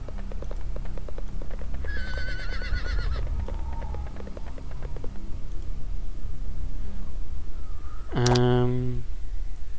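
A horse in the video game Sacred Gold gives a loud, clear whinny near the end, with steady hoofbeats going on throughout and a voice talking underneath.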